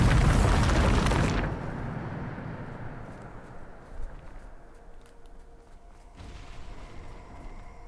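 A Bombarda blasting spell goes off in a mining-themed magic video game: one loud, close explosive boom lasting about a second, then a long fading rumble with a softer second burst toward the end.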